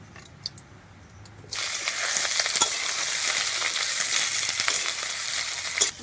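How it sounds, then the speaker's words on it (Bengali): Onion petals hitting hot oil in a wok for a katla fish curry: quiet kitchen, then a sudden burst of dense crackling sizzle that holds steady and close, with occasional spatters. "কড়াইতে আমি অল্প করে তেল দিয়ে প্রথমে পেঁয়াজের পাপড়িগুলোকে ভেজে নেব"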